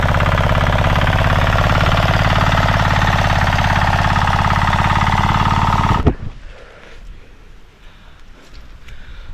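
A small tractor engine runs loud and steady in a muddy, puddled rice paddy during rice planting in the Konkan, with a constant mechanical drone that cuts off sharply partway through, leaving quiet background noise.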